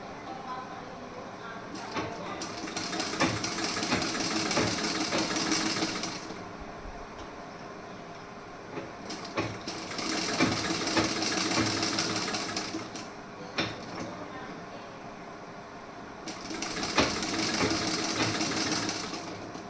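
A sewing machine stitches a piece-work blouse in several loud bursts separated by short pauses, with someone speaking softly between runs.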